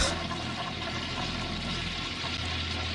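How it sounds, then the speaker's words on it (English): A toilet flushes with rushing, gurgling water that pours and swirls steadily for a few seconds, part of a WWE wrestler's entrance theme music built from bathroom sound effects. "a theme song that literally sounds like toilets flushing and pipes gurgling"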